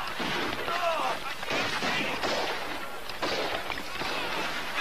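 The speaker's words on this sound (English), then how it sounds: "permission to go to the sound of the firing" Battle scene from a 1991 film about the Little Bighorn and Custer: dense, continuous rifle fire and shouting fill the air, with repeated sharp cracks and a constant noisy din, loud throughout.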